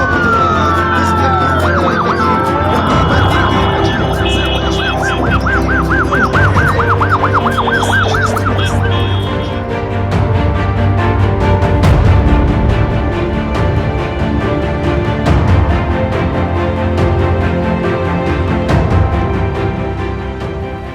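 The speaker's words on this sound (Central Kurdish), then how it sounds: "بە دیتنی نارەی ئۆتۆمبیلی هێزەکانی پۆلیس و شۆفێرانە ڕادەکەن" A police car siren wails loudly and close on a city street, rising and falling tones over traffic noise and engine rumble, continuous throughout with no talk.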